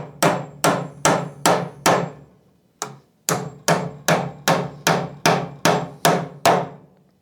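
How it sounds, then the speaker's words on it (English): A hammer driving nails to mount an electrical box, a close, loud series of about fifteen sharp, evenly spaced blows with one short pause partway through, and nobody talking. "Now we're just going to take a hammer and we're going to hammer those nails in."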